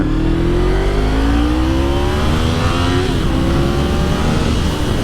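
A Honda VFR750F or Triumph Sprint 955i ST motorcycle engine accelerates hard, its loud, close whine climbing steadily in pitch as it revs up to about 11,500 RPM, with rushing road and wind noise and no talking.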